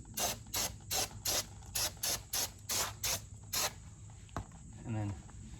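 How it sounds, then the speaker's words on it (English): Brake cleaner sprayed into a truck's axle housing during an axle shaft replacement, in about ten sharp hissing bursts at a steady rhythm, close and loud, followed by a brief clunk and a short low rumble. "While you're in here, just give it a clean, some brake clean."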